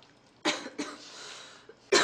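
A woman coughs indoors, nearby and distinct, during a cold: a sharp cough, a second smaller one, then another hard cough at the end, with quiet pauses in between.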